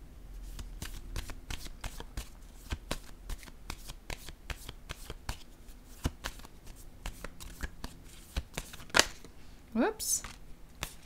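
Tarot cards are shuffled by hand in a steady, rapid run of close papery flicks and slaps, with a few louder riffles near the end and someone speaking softly at times.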